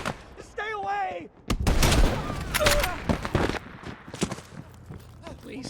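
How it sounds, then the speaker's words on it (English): Gunfire from the Call of Duty Black Ops Cold War campaign, loud bursts of shots and impacts following a warbling synthetic tone, with shouting voices and chaotic movement mixed throughout. "They're shooting at us!"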